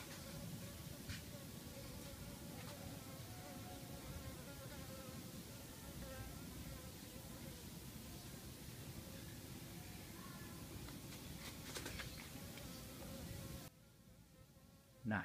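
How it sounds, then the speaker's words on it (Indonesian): Bees buzz in numbers around a potted honey water apple tree, a constant close droning swarm with scattered louder passes by single insects, cutting off abruptly near the end. "Lebah mulai datang dia."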